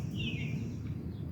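A single bird's call rises faintly and briefly over a low outdoor rumble on an overcast morning, distant and soft.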